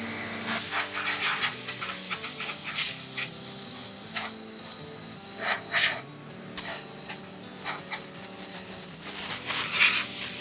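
Compressed air blown onto a felt hat during hat making, a loud continuous hiss that cuts off briefly partway through before resuming, with faint workshop background.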